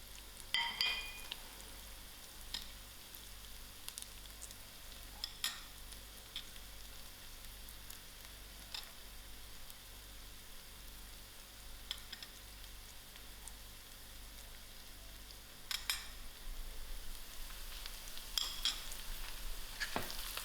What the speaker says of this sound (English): And also my ginger garlic, and I'll give this a few minutes to fry out.